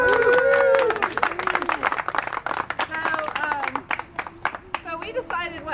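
Applause breaks out from an audience at an outdoor Lake Ella energy event in 2014, a burst of clapping with scattered cheers and voices mixed in, fading into more scattered claps toward the end.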